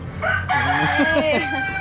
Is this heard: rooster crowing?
yes